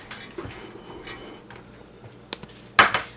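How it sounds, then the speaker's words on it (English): A bowl is pulled out and handled in a home kitchen while stuffed peppers are prepared, with several light ceramic clinks and knocks and a sharper clatter near the end, close and without speech. "I get a bowl."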